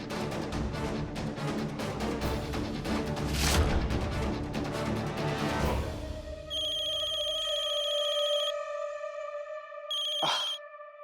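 A telephone rings in bursts after a stretch of loud, busy noise, its electronic tones repeating twice, clear and close.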